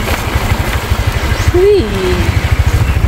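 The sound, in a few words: motorcycle engine idling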